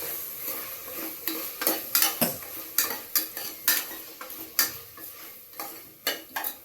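Masala with chilli powder being sautéed in a pan, a spoon stirring and scraping in steady repeated strokes over a soft sizzle, close and clear with no talk.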